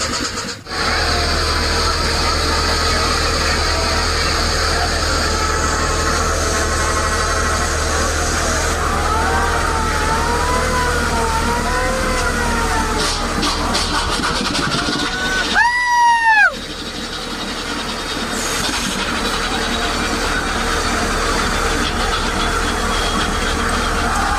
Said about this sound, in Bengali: দু সাইড দিয়ে দুটি লঞ্চ বের হচ্ছে, এই পাশে সুরভি আর এই পাশে ছোট আরেকটি লঞ্চ।